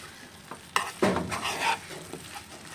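Curry leaves and mushroom masala stir and sizzle in a pan for a mushroom masala curry, with a steady frying hiss broken by a few louder scraping stirs near the middle, close by and with no talking.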